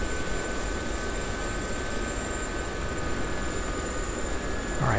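A UH-1H Huey helicopter in the flight sim DCS World flying low between trees, its dense steady engine and rotor roar holding constant and loud throughout with a faint tonal whine on top, no voices.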